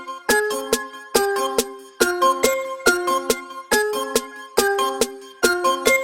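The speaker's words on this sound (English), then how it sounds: "Next up we have the snare." Snare drum layered into a hip-hop beat, sharp cracks landing at regular intervals alongside a repeating bell-like melodic loop, close and prominent.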